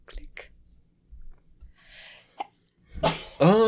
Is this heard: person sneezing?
yes